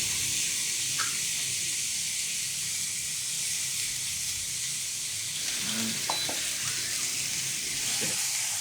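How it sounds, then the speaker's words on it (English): A seasoned steak cooks with a soft, continuous sizzle and hiss, fairly quiet and steady, with a few faint clicks and small knocks over the frying. "Now finally, I'm ready to cook my steak."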